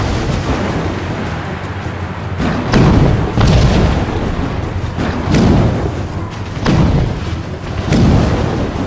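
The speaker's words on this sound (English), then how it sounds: "He's using mortars to stop Shay!" Mortar fire in the video game Assassin's Creed Rogue sends heavy booming explosions at a manor, about five deep blasts spaced a second or two apart, loud and rumbling over a low background roar.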